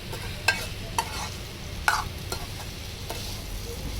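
A spoon stirs ingredients into softened fried onion and garlic in a pan, giving several sharp scraping clinks over a low, steady sizzle, close by with no talking.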